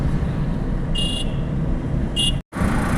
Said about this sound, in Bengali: দেখুন এই স্পিডে আমি গাড়ি চালাচ্ছি, 40-50